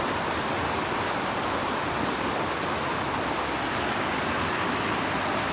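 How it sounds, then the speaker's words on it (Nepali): Rain falling from the sky outdoors, a dense, unbroken hiss at an even, fairly loud level throughout, with no voices. "आकाशबाट पानी आइरहेको छ"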